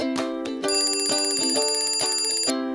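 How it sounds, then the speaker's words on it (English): An alarm rings out in a toy Paw Patrol stop-motion story: a loud, steady electronic ringtone-style tone, pulsing in quick bursts for a couple of seconds, close and alone without talk. "That's the alarm."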